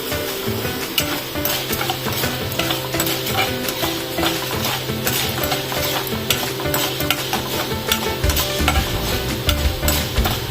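Mustard seeds crackle and spatter in hot oil in a pan, a dense loud continuous popping sizzle heard up close for the whole stretch with no talk.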